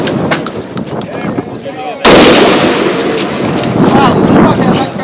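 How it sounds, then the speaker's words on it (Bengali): Repeated police gunfire aimed at student protesters in Bangladesh, sharp cracks at first, then a sudden burst of loud, sustained firing and noise that stays dense and continuous to the end. "ম্যাগজিনের পর ম্যাগজিনের গুলি চলে শিক্ষার্থীদের উপর।"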